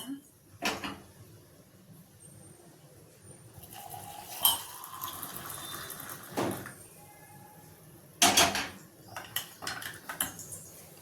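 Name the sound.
mixing milk with Horlicks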